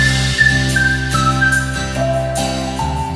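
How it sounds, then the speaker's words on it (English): A bright whistle-like melodic line plays short sustained notes over a layered musical backing, steady and loud. "And now the whistle."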